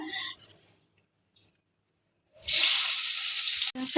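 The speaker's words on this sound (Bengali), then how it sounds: "এখন আমি লবণ হলুদ মাখিয়ে রাখা পুঁটি মাছগুলোকে ভেজে নেব।" Fresh puti fish coated in salt and turmeric dropped into hot mustard oil, a loud sudden burst of dense sizzling that holds steady for over a second after a near-silent stretch, with brief faint sounds before it.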